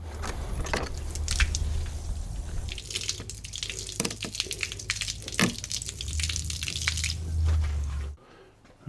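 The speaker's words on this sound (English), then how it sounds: "Might as well drain this water while I'm at it." Water draining from a farm planter's tank, an irregular splashing trickle with drips and a low running hum, ending in a sudden drop near the close.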